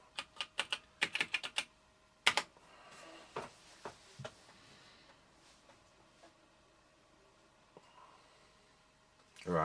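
Keys clatter on the keyboard of a Toshiba T1200 laptop in a quick burst of close, crisp strokes, followed by a few sparser presses and a louder clack at the end.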